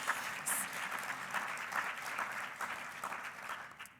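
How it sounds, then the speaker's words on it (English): Audience applause at a community event in Milwaukee, a steady wash of many hands clapping at moderate distance, fairly even throughout with slight swells and a fade at the end. "So like round of applause for all of you"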